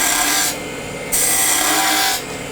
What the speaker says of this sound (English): so now what we're going to do is come back here with spindle gouge.